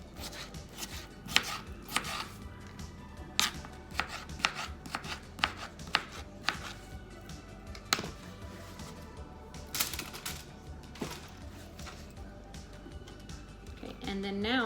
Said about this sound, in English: I'm just going to go ahead and cut up some more potatoes